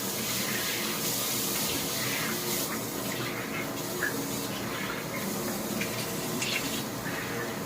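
Tap water runs steadily into a sink while someone washes their face, a soft, continuous hiss with small splashes, fairly quiet and uninterrupted.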